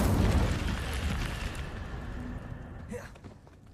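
A fiery spell from the Hogwarts Legacy video game bursts with a loud whooshing roar that slowly fades over several seconds, followed by a brief flare near the end.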